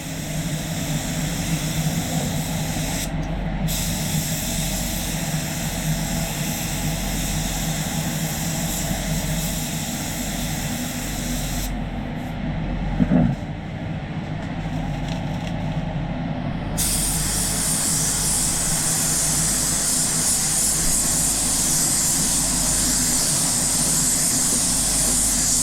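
Spray gun laying epoxy primer across a car's engine bay, a long continuous hiss with a steady compressor-like drone beneath, close by, briefly broken by short pauses and one sharp knock midway.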